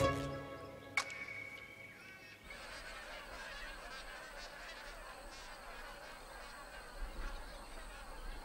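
Magpie geese honk in a loose, continuous chorus in a northern Australian estuary marshland, with a few louder calls near the start, under a steady wash of background noise.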